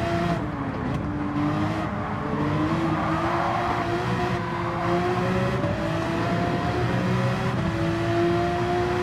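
A race car at the Nürburgring in Gran Turismo 7 keeps a loud engine drone going throughout, pitch rising steadily under acceleration with brief easing, close and continuous with no talk.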